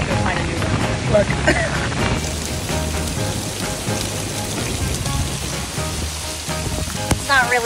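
Rain falls steadily on a makeshift shelter on a private island, a dense patter with scattered sharper drops, while a person talks over it throughout.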